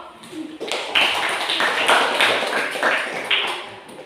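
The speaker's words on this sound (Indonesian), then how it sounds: "tepuk tangan untuk kelompok" Classmates in a classroom clap for a group that has just finished presenting, a steady patter of hands from a small room of people, moderately close.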